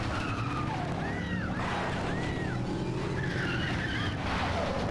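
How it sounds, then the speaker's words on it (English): Car tires squeal and skid in a long rising and falling screech during a handbrake turn in a racing video game, loud and close over a steady engine roar. "I'm trying to handbrake out of this thing"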